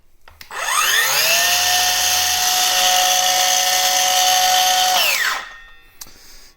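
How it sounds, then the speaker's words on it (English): A Kobalt 24V brushless circular saw spins up, runs at a loud, steady high-pitched whine for about five seconds, then winds down. Nobody speaks. "Okay, so here's the circular saw."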